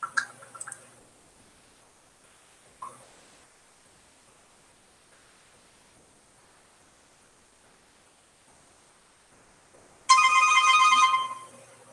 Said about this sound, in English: What's that? My phone.